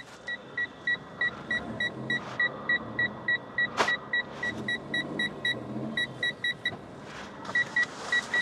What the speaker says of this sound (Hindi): हमारा पार्किंग सेंसर हो गया पागल, गाड़ी इतनी दूर है फिर भी T T T T T T T कर जा रहा है।